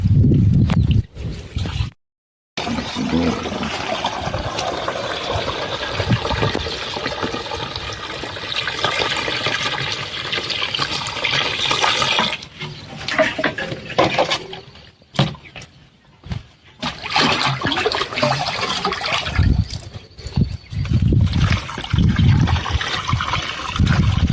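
Water pours steadily into a crop spray pump tank for a long stretch, a continuous rushing trickle close by with brief breaks and some background noise.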